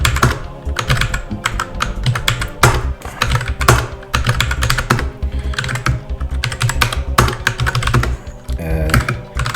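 Code being typed on a computer keyboard, a fast, steady stream of close, crisp key clicks with brief pauses, heard alone without talk.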